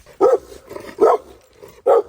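A guard dog barks three times, loud and close, in an evenly spaced rhythm, before dawn near a beach.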